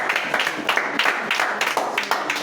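A church congregation rising to applaud and cheer during a worship service, a steady wash of clapping and voices running through the whole moment at moderate loudness.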